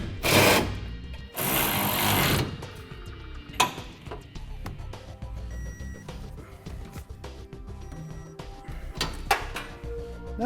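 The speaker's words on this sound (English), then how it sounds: "Now we're ready to snug down the bolts that are going to hold the center section to our cross members" A power tool whirs in two loud bursts while snugging down gooseneck hitch bolts on a 2016 Ford F-350, followed by lighter clanks and taps of parts being handled.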